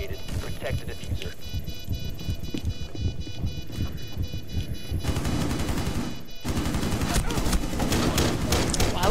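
Rapid bursts of gunfire rattle through a squad-based bomb-defusal shooter game, dense and continuous with heavier volleys later on, while players talk over the shooting.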